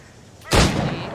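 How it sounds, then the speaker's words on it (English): A single loud gunshot aimed at targets in Assassin's Creed Rogue, a sharp sudden crack about halfway in followed by a short booming decay, with quiet background ambience before it. "Shoot these targets"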